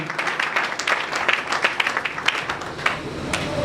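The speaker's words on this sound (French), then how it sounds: "Acclamons très fort." A church congregation applauding, a brief burst of dense, fairly close clapping with uneven rhythm that keeps going throughout.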